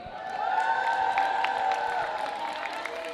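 Roller derby crowd at a Copenhagen versus Portsmouth bout cheers and claps in a steady, sustained roar with scattered whoops, fairly loud and continuous throughout.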